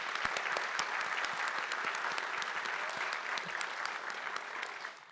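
An audience at a youth recognition awards evening claps for school officials, with crisp individual claps inside a steady round of applause that fades near the end.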